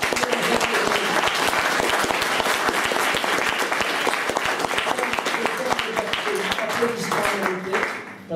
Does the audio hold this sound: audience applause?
yes